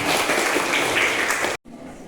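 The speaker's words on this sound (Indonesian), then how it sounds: "Beri aplaus kepada kelompok 3" Group applause for a student team in a classroom lesson, a dense steady patter of many hands clapping that cuts off abruptly, leaving quieter room noise.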